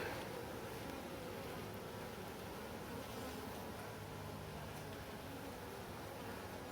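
A dense, steady hum of honey bees buzzing close by, a continuous droning swarm with no voices.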